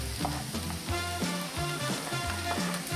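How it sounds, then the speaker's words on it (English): Garlic sizzling in a pan with sautéed string beans, a continuous close frying hiss with rhythmic stirring scrapes roughly every half second, alone without talk. "So we want to saute the garlic, but because it's so small, of course it's going to fry very quickly."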